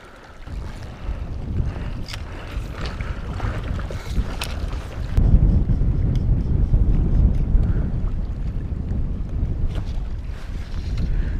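Strong wind buffets the microphone in a loud, continuous low rumble that surges heavier halfway through, with water lapping underneath while fishing.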